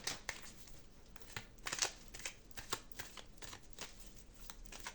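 Cards being handled and laid out on a table, soft repeated slaps and shuffling flicks in an uneven rhythm, quiet and close with no talking.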